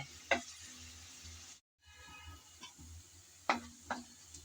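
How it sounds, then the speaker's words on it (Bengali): Chopped onion fries in hot oil after dried red chillies, with a soft low sizzle and a few sharp scraping stirs of the spoon against the pan, one brief dropout in the middle. "পেঁয়াজ কুচি দিয়ে নেড়ে চেড়ে ভালো করে পেঁয়াজটাকে ভেজে নিতে হবে"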